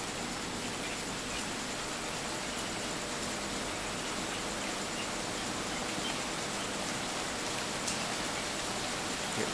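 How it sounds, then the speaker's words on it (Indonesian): Heavy rain falls steadily on surfaces in Yogyakarta during ash fall from the Kelud eruption, a dense, unbroken hiss that holds constant throughout. "Ya, hujan, air hujan semakin deras."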